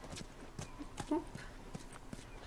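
Horse hooves clip-clop on the ground in The Last of Us, a quick run of clear, evenly spaced hoofbeats up close, with a brief snort or whinny partway through.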